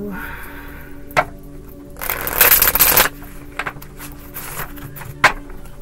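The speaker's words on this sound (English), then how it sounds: "Couple more shuffles for Capricorn," Tarot cards are shuffled by hand: a few sharp taps and flicks, then a dense riffling burst lasting about a second, followed by more scattered taps.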